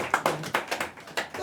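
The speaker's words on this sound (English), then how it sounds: "let's clap it up" Scattered clapping from a small open mic comedy crowd in Boise as a comedian comes to the stage: a handful of distinct, uneven claps, fairly close, with no talking over them.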